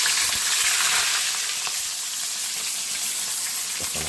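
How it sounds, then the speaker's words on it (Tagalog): Dalagang bukid fish frying in hot oil, giving a steady, close hiss of sizzling that continues without a break. "Magpiprito na po tayo ng ating isdang dalagang bukid"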